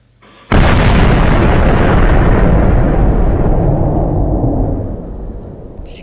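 A bomb goes off in the Minecraft Voltz mod video game with a sudden, very loud blast that becomes a long roaring rumble and slowly fades over several seconds.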